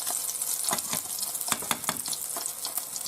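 Steady sizzling and crackling of small roach fish frying in hot oil in a pan, with small pops and spatters throughout, close and fairly quiet.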